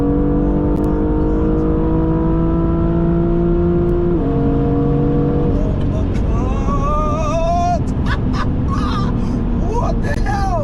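A BMW M2 pulls hard on kick-down, its engine note rising steadily through the rev range before a gear change, then continuing to climb, loud and close, with sharp bird-like chirps scattered over the later part.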